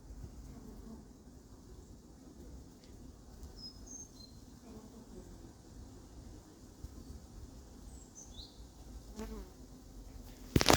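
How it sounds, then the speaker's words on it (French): Hornets buzz and hunt bees at an apiary in Crosne, a steady insect drone with sharper passing wing whines over the low hum of the hives, fairly close and unaccompanied by talk. "il y a quelques frelons qui chassent bien quand même"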